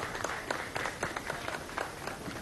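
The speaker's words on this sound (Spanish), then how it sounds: "pido un aplauso para las mujeres que están aquí" A crowd at an outdoor political rally applauds for the women present, a faint, distant patter of clapping with scattered louder claps.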